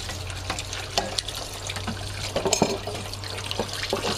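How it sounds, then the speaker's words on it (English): Tap water runs steadily into a bowl at a kitchen sink, a continuous splashing stream with small drips and clinks, close and moderately loud, with no talking. "We're gonna run some water in this bowl."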